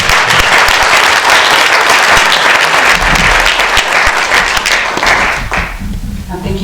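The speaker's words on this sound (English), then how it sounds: "Let us give them one more round of applause." Loud, full applause from a seated audience honours youth speakers at a South Sudan youth session, running strong for about five seconds before fading into a few lingering claps.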